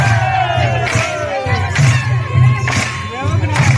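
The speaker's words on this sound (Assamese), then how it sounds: "সেই প্ৰাংগণত তেওঁলোকে এনেদৰে প্ৰথমতে উল্লাস কৰিছে" Bodo festival-goers in the Bathou temple courtyard at Sonapur cheer and whoop loudly during the Baishagu celebration, with bursts of shouting voices rising and falling over a droning low hum.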